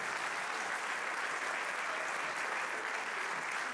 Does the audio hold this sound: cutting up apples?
no